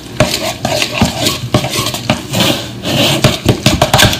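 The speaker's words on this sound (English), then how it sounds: "So I'm going to put the already shredded cheese in the bowl," Shredded cheese being stirred in a bowl for homemade pimento cheese, a steady run of scraping, clattering strokes close up, repeated about every half second with no talk.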